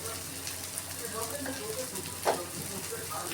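Jackfruit and shrimp fry with cumin, coriander and chilli powder in a pan, giving a soft, continuous sizzle with a brief scraping stir partway through, fairly quiet and close.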